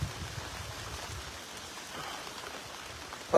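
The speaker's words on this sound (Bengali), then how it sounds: "এবার বৃষ্টি পড়তে শুরু করেছে বহুদিন পর দীর্ঘ তাপদায়ের পর স্বস্তির বৃষ্টি মিলছে" Rain falls steadily during a storm, a diffuse, even patter with a low rumble beneath it and a single sharper knock at the very end; no voices.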